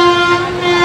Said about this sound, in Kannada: ಯಾವುದೋ ಗುಡ್ಸ್ ಟ್ರೈನ್ ಹೋಗ್ತಾ ಇದೆ.